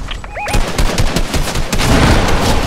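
Rapid bursts of automatic gunfire and single shots in a Fortnite squads match, loud and dense, continuing almost without a break after a brief electronic chirping at the start.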